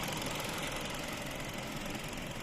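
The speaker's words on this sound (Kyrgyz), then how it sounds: "Үнүн угуп турасыздар, тоннук иштеп турат." A Kia Ceed car engine idles in a steady, even low hum, heard faintly and close with no talk over it.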